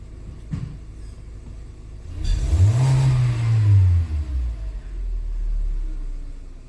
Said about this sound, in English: I'm gonna go wide open throttle.